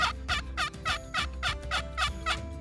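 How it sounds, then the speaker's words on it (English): A wooden turkey box call scrapes out a series of about eight evenly spaced gobbling yelps, loud and close, with no talking. "and I'll grab my box call."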